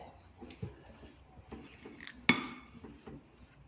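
Pulp being mixed into icing in a bowl with a utensil, light scrapes and scattered clinks against the bowl, including one sharp knock, close and quiet with no speech.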